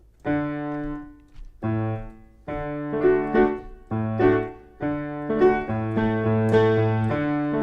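Melodic instrumental passage with sustained bass notes under chordal piano and plucked guitar tones, played in repeating phrases, clear and close with no talking.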